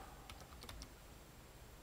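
A few quick keystrokes on a computer keyboard while writing Arduino code, faint soft clicks in a short burst over a quiet room hiss.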